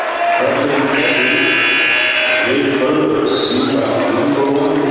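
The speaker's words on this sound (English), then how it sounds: "this might be the angriest buzzer I've ever heard in a stadium" A harsh, loud stadium buzzer blares for about a second and a half over crowd noise in a large, echoing arena during a basketball game between Pleasant Grove and Davis.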